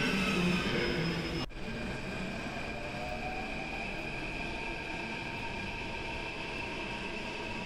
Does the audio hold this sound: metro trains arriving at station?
yes